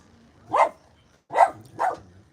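A dog barks three times nearby, one bark then a pause and two more in quick succession, with nothing else around.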